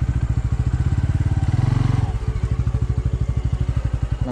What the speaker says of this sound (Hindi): तो हम लोग अपनी बाइक जो है यहीं लगाते हैं।